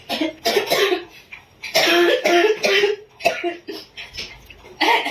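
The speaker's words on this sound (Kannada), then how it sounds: "ಗಂಟ್ಲು ನೋವು ಗೊತ್ತು ಅಂದ್ರೆ ಕೆಮ್ಮು ಬರ್ತದೆ ಅಂತ" Several loud, harsh coughs from a person with a sore throat come in bursts, close by, with short pauses between them and a few throaty sounds mixed in.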